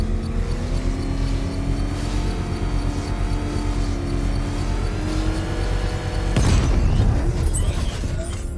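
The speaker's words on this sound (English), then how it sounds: "I can use the power switch to trigger a controlled explosion." A controlled bomb explosion in Batman: Arkham Knight breaks in as a sudden loud burst after a steady droning game soundscape, then rumbles on and fades.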